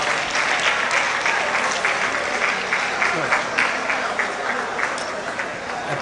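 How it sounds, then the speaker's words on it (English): Dense, steady applause from an audience at a teachers leadership conference fills the room, loud and continuous for the whole stretch with a slight fade near the end. "Please, let's clap her."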